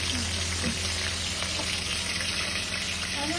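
Loud, constant sizzling and crackling of hilsa fish frying in a pan, close up and unbroken, with no voices over it.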